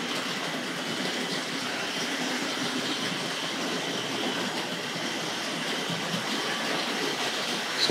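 Continuous steady rattle and whir of a Tri-ang R.59 2-6-2 tank model locomotive hauling bogie bolster timber wagons along track, even and unbroken throughout, fairly close with no voices.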